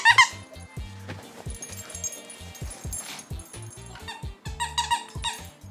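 A squeaky Christmas bone dog toy squeezed repeatedly in quick, uneven bursts, loud and close, with a husky's whines and yips mixed in inside an apartment.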